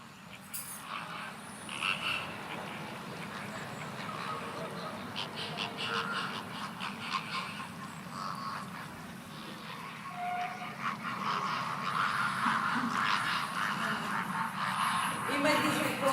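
A field recording of flamingos on an early spring morning: a flock's honking, goose-like calls repeat steadily at a moderate distance, overlapping in a continuous chorus that grows somewhat denser toward the end.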